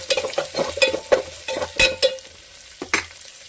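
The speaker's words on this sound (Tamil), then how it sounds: "அதோட பச்சை மிளகாய், அடுத்து சின்ன வெங்காயம், லைட்டாக வதக்கிப்போம்" Green chillies and shallots sautéed in a pan with curry leaves, giving close, repeated stirring scrapes over a light sizzle in quick bursts, with no talking.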